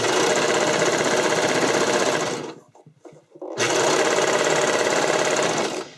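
A sewing machine stitching elastic onto a skating dress runs in a loud, fast, steady whir, stops briefly for about a second, then resumes at the same pace up close.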